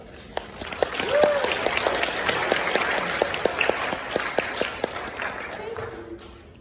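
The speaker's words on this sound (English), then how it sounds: "Let's have a round of applause again for Ella" Audience applause for a student presenter after a stereoscope project talk, a steady wash of clapping with sharp individual claps standing out, fairly close, with a few voices underneath.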